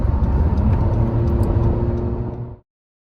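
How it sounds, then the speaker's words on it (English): Steady road traffic rumbles continuously close by, a dense broadband roar of passing vehicles that cuts off abruptly near the end. "At all this traffic."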